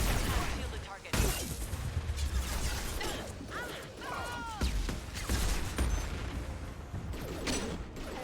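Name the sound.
heavy gunfire in the video game Mass Effect 2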